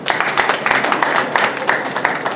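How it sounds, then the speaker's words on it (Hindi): An audience at an award ceremony in a women's college hall claps for a village daughter honoured as a scientist: steady, dense hand clapping with no voices over it. "तालियां बजाइए इसके लिए।"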